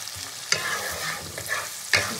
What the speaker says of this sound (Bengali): পেঁয়াজটা ভাজতে এর মধ্যে একটু চিনি দিয়ে দেবো